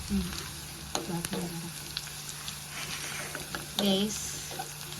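Food fries in a pan for mango pulissery, a steady close sizzle with occasional stirring clinks and scrapes, while a voice speaks faintly at moments.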